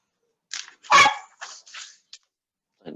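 A pet dog barks nearby in a quiet room, giving one loud sharp bark followed by a few shorter, softer yips and whines with silent gaps between them.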